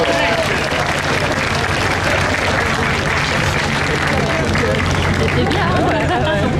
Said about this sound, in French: Nous pouvons encore une fois les applaudir.